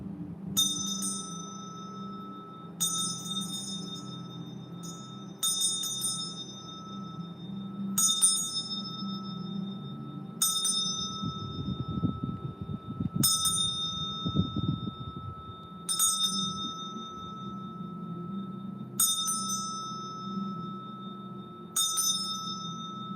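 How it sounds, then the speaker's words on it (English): A small bell used in Hindu worship is struck about nine times at slow, even intervals, each bright ding ringing out over low background hum and some brief rustling. "Oh, let me ring the bell."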